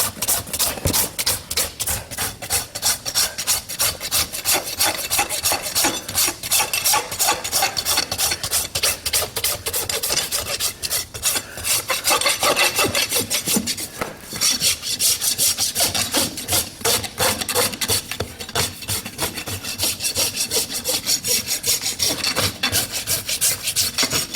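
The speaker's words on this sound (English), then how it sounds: "And then I like to rasp them off." Continuous rhythmic rasping, a coarse file scraping back and forth in quick, even strokes on an event horse's hoof during shoeing, close and loud with no talking.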